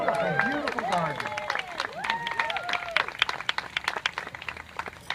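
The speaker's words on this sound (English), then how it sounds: "Let's give Elaine a round of applause for this beautiful, beautiful garden." Applause at an outdoor garden party, clapping rising under a speaking voice at first, then continuing alone as scattered, close, irregular claps.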